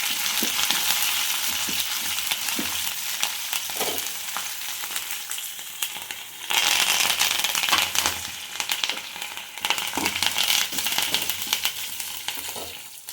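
Steady loud sizzling and crackling of a tamarind rice tempering of dried red chilies, green chilies and curry leaves frying in hot oil, with occasional stirring scrapes and pops, close up and continuous.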